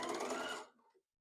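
A sewing machine stitching quilt triangles runs in a short, quiet mechanical whir for about half a second, then winds down and stops.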